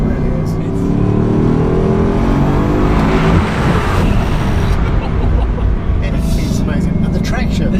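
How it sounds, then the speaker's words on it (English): The 8-litre W16 engine of a Bugatti Chiron hypercar accelerates hard, its loud rising roar building close up and then easing, with someone talking over it. "Engine, on the outset, you'd be forgiven for thinking that it's a version of the Veyron engine because it's still the 8-litre W16."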